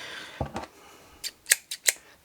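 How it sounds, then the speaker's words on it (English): Large scissors cut paper in a series of crisp snips: two softer cuts, then three or four sharper, brighter blade closures in quick succession, close and isolated against a quiet background. "Do not fussy cut with gigantic scissors."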